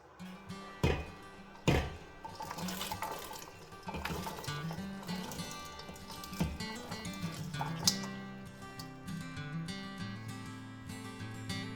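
Sliced jalapeño chillies tipped into a pot of boiling sugary brine for candied cowboy candy, a few heavy plops and thuds followed by bubbling, sloshing liquid and clinks, close up.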